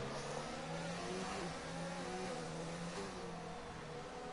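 Formula 1 race cars accelerating at the Hungarian Grand Prix in a racing game, a steady, loud engine whine with rising and shifting pitch, no voices.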